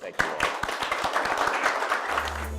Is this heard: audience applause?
yes